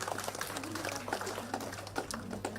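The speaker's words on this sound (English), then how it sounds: "please give a big round of applause for those encouraging words from Nalini ma'am." Audience applause after a speech at a foundation event, steady dense clapping sustained throughout over a low hum, moderately loud.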